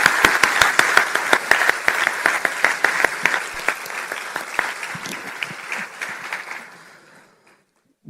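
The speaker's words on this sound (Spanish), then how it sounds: "Un fuerte aplauso, mucho más fuerte," An audience bursts into loud, sustained applause after a talk, dense clapping from a large crowd that holds steady for several seconds, then thins and fades out to near silence.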